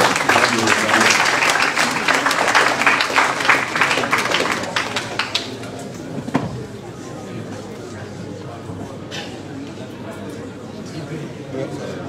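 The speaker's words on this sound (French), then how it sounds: "Sous vos applaudissements." A conference audience applauds as a speaker is called onto the stage, loud massed clapping for about five seconds that then fades into murmuring crowd noise and scattered claps.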